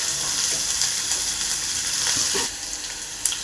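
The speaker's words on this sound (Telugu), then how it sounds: "ఈ ఆనియన్ పచ్చివాసన పోయి మెత్తపడే వరకు ఫ్రై చేసుకోవాలి." Onions sizzle steadily in hot oil in a pan for poha, a loud, continuous frying hiss that eases slightly near the end, with a soft stir or tap.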